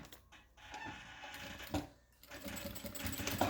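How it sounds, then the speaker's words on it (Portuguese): A sewing machine runs a line of stitches along the edge of fabric for a cosmetic bag, a steady mechanical whir with brief pauses and small clicks, close and moderately quiet. "E costura na beiradinha, tá?"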